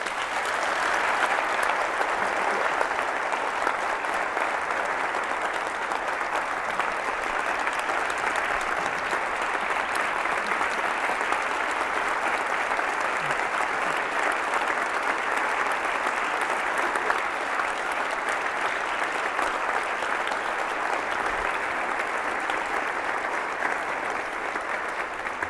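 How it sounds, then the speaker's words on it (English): An audience applauds Judith at a human rights event, sustained dense clapping from a sizeable crowd that holds steady and loud for the whole stretch with no voices over it. "let's have applause for Judith"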